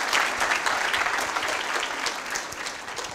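A lecture audience breaks into applause, a dense patter of many hands clapping that starts loud at once and holds for about three seconds before easing slightly, with no speech over it.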